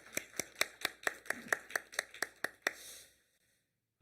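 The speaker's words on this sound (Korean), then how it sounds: "우리 다 같이 한번 격려의 박수를 한번 드리겠습니다." Church congregation clapping at a Sunday worship service in an even, rhythmic beat of about a dozen sharp claps in unison, fairly quiet, then stopping abruptly into silence.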